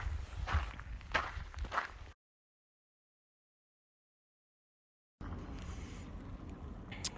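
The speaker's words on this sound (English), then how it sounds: "So I'm on the dreaded road walk" Footsteps crunch along a road on a hiking trip, a steady close walking rhythm with wind noise, cut by a few seconds of total silence before resuming.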